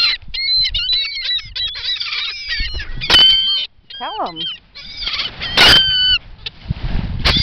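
Geese honk repeatedly and loudly at a beach, calls overlapping in a noisy flock, with a person talking briefly among them.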